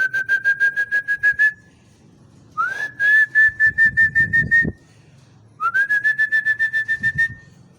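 Three long, steady human whistles, each with a rapid pulsing flutter, sounded near the water to draw fish in for feeding, with faint rubbing and knocking noises between them.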